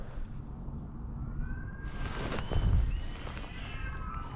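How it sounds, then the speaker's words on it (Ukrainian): Cats yowl in spring on a riverbank during a fishing trip, with a few drawn-out wavering cries at middle distance over steady outdoor background noise and wind rumble. "Коти вже там навсю дають."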